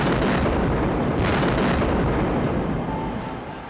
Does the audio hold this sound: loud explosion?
yes